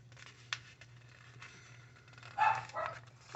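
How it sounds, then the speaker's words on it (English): Dogs bark at a distance, faint and muffled, with a couple of short bursts late on over a low indoor hum. "oh, there goes the dogs"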